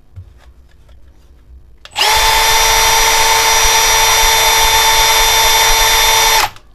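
Milwaukee cordless drill spun up at speed 2, a loud steady high-pitched whine starting abruptly after a quiet pause and holding evenly for several seconds before cutting off.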